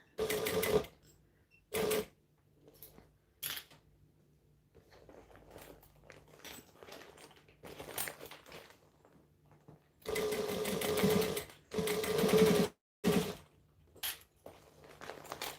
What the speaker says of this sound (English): I'm just top stitching.